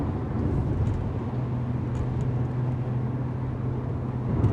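A BMW N55 engine fitted with a VRSF catted downpipe cruises at partial throttle on a flat road. Its exhaust gives off a steady, low rumble with no rise or drop, heard from inside the car, and there is no talking.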